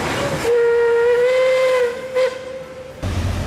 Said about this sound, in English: is a narrow gauge class locomotive built in 1901 and painted two-tone green.